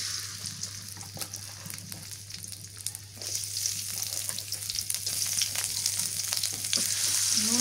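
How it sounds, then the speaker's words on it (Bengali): Chopped onion frying in mustard oil, a steady bright sizzle with a constant low hum beneath, growing slightly louder and denser after a few seconds, with occasional stirring clicks. "সরিষার তেল দিয়ে দিই, পেঁয়াজ কুচি দিয়ে দিই"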